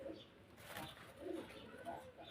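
A grizzle racer pigeon coos softly in a few low, rounded calls at close range, faint against a quiet room background.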